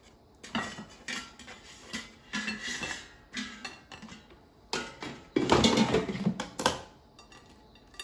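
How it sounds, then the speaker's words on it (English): French toast sticks come out of an air fryer basket with clattering metal-on-metal clinks, scrapes and knocks in irregular bursts, some louder toward the end, close and without speech. "Now let me take them out."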